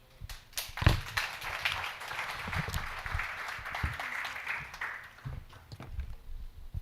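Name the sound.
audience applause after a workshop talk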